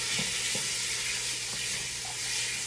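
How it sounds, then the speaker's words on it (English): Steak browns in a soup pot with a loud, continuous close-up sizzle, a steady hiss with a few faint pops. "We'll let the steak brown on all sides."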